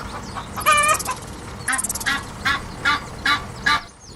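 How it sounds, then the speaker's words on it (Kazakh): A domestic chicken clucking and squawking in a short run of repeated calls, close by and fairly loud against a faint background, with no talking. "тауық."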